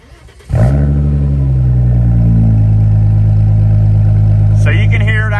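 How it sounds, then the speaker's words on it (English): An Audi A4 with the 2.7 engine and a straight pipe exhaust cold-starts after a brief quiet moment, then settles into a loud, steady, rumbling idle close by, with a raspy edge near the end. "I'm going to do a cold start on mine."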